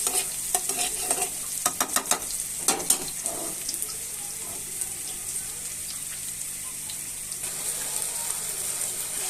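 Onions sizzle steadily in a hot pan, with a burst of scraping, clinking stirs early on before the frying settles into an even, close hiss.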